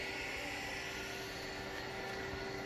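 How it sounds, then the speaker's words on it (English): An electric motor pulls organic liquid slurry from a tank, giving a continuous, loud whirring hum with a steady tone and no pauses or talk. "Test slurry which filtered in that tank is pulled by this motor."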